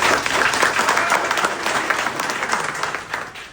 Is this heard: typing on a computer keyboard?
no